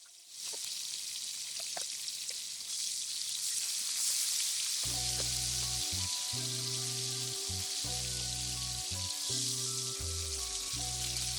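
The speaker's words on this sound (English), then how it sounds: "the meat is so juicy, there's a lot of moisture coming out, and it's not searing off as fast as it normally would" Sirloin tip roast sears in a pan that is not yet fully hot, giving a steady, close hiss of moisture sizzling off the juicy meat, with clanks and background music from about five seconds in.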